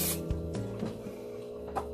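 Short bursts of hairspray hiss from an aerosol can onto hair, close by, with a couple of quick sprays over a low background hum.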